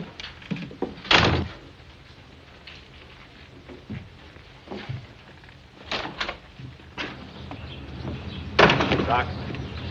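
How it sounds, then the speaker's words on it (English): A door in an old Western drama bangs open and shut as someone walks out, a few heavy thunks set against steady rain-like background hiss. "I'm walking out that door."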